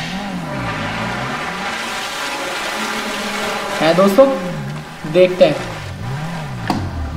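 A Maruti 800 in GTA 5 drives along with a wavering, rising and falling engine tone, broken by a couple of clattering impacts midway, while someone talks over it.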